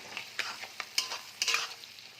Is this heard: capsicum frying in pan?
yes